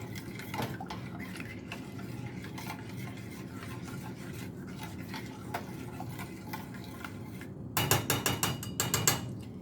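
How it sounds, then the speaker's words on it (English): Creamy Cajun veggie pasta being stirred in a pot, a soft continuous scraping and swishing close by, then a run of brighter metallic clinks and taps near the end. "And I'm just stirring it."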